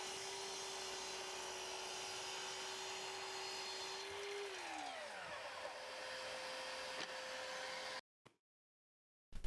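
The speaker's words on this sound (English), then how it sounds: "I'm just going to take my time here at the miter saw and make sure the blade doesn't deflect as I cut." A miter saw cuts slowly through assembled wooden shelves: a loud, steady blade whine falls in pitch as it bites into the wood, then spins down and ends abruptly, with no talking.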